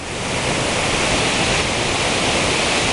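A creek near Naramata Creek Falls flows in a steady, loud, broadband rush of water that fills the whole moment without pause.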